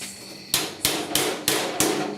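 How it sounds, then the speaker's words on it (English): Five sharp metal hammer strikes on a 1969 Chevy C10 door patch panel ring out at a steady rhythm, close and clear with short ringing decays. "trying to hammer and see what I got"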